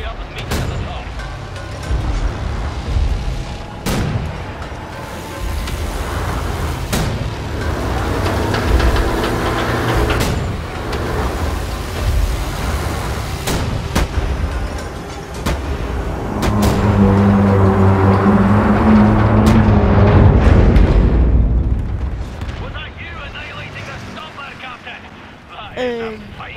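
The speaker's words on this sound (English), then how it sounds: "there's one more cannon further up still firing at that bird" Cannon fire in the video game Wolfenstein The New Order, several sharp booming blasts spaced across a rumbling battle soundscape, with a heavy mechanical drone swelling partway through and speech in places.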